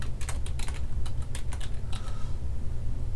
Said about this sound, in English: in cell B3, I'm going to type the months